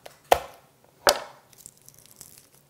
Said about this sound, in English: So the better you can chop up your garlic, just take your time.